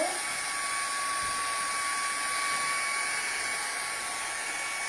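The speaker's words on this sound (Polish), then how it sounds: "Powietrze, zimne powietrze, które wydmuchuje się z suszarki powoduje, że te balony się kręcą" A hair dryer on its cold setting blows air to spin a balloon pinwheel, giving a loud, continuous, high-pitched whirring whine that holds steady throughout with no speech.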